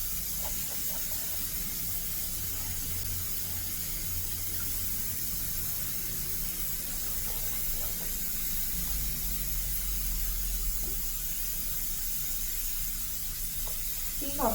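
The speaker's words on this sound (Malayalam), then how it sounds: "ചട്ടി വെച്ചിട്ട് വെളിച്ചെണ്ണ ഒഴിച്ചിട്ട് ആദ്യം ഇഞ്ചി വെളുത്തുള്ളിയൊക്കെയാണ്" Ginger and garlic sizzling in coconut oil in a pan, a steady soft hiss running continuously throughout, close and moderately quiet, with faint occasional crackles and no talking.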